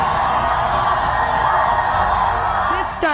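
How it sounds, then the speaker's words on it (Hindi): A rally crowd in Telangana cheering for BJP candidate Madhavi Latha, a steady loud roar of shouting and whooping that holds for about three seconds before cutting off. "माधवी के लिए सब लोग ताली बजाओ भाई।"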